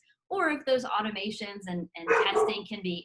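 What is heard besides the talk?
dog barking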